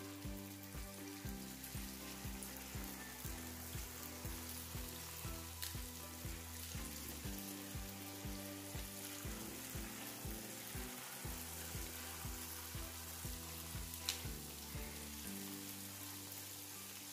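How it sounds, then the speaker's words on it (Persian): Rings of bamiyeh dough made with milk frying in hot oil, a steady dense sizzle and bubbling crackle running continuously at close range with a faint low hum beneath, no voices. "زمانی که روغن داغ شد گازو خاموش کن و بامیارو داخلش برش بده"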